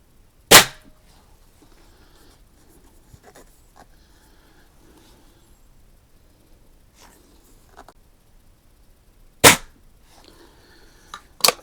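A Daisy 131 air pistol firing hollow point pellets at cans at seven yards: two loud, sharp shots well apart and a fainter pop near the end, with near silence between.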